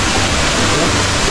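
Back Door Falls in Pasacao, Camarines Sur, a loud steady broadband roar of falling water, close and continuous, with no break in the rushing.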